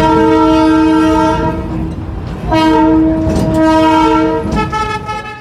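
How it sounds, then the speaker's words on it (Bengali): Darjeeling toy train horn blaring loud and close in repeated long blasts over the rumble and clatter of the moving train. "আমরা এখন চড়ে বসেছি টয় ট্রেনে"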